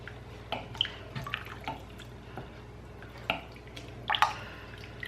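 A spoon stirs a thick tomato and lentil soup mixture in a pot, giving soft wet squelches and a few light clinks, quiet and irregular with no voices.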